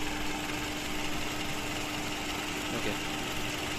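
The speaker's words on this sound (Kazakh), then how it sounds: "Мотордун үнүн угуп турасыздар. Тунук. Мотордун иштеши жакшы." A Toyota Camry 2.5 engine idles steadily up close, giving a continuous even hum with a faint mechanical buzz and no change in revs.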